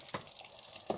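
Tomatoes for a Nigerian party stew frying and being stirred in a pot, a soft continuous sizzle with a couple of brief scraping stirs.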